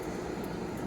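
An electric fan on an Oklahoma Joe's smoker burning hickory and pecan wood hums as a steady, even whoosh, close and continuous for a brief moment.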